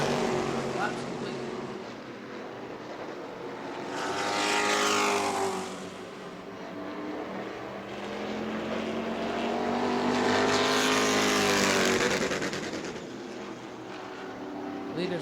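Race cars roar around New Smyrna Speedway late in a World Series event, engines swelling loud and fading as the pack sweeps past in waves, with a commentator's voice faintly over the steady din.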